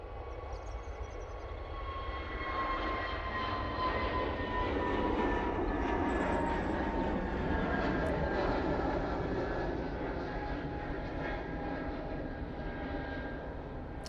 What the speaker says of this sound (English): plane departing now